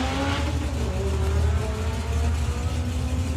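Drag racing cars, a VW Lupo against an Audi in a 4-cylinder class, give a steady, loud engine drone with a sustained rough roar and no clear passes.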